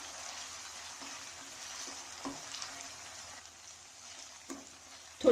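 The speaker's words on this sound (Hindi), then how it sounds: "अब इसके अंदर जिंजर गार्लिक पेस्ट जाएगी, इसको भी थोड़ा सौते करें।" Ginger garlic paste sautéed with softened onions in a pan for spicy keema pasta, giving a faint, steady low sizzle with a few soft stirring scrapes and a brief louder knock at the very end.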